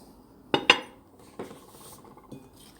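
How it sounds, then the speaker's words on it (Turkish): A whisk clinks against a bowl while mixing a soft poğaça dough of dissolved sugar and flour, with a quick pair of bright metallic knocks followed by two fainter taps in a quiet kitchen. "Şimdi bunu da bu şekilde çırpıyorum."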